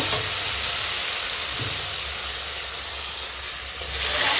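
Green mango frying in hot oil gives a loud, steady sizzle and hiss as water is poured in, the steamy crackle swelling again toward the end.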